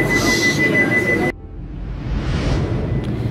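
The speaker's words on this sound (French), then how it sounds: "On est en train de prendre le métro pour y aller." A Barcelona metro train runs through a station. Its wheels give a high steady squeal over a loud rumble, which cuts off abruptly and gives way to a quieter rush as the train moves on. Nobody speaks.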